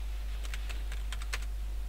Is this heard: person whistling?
no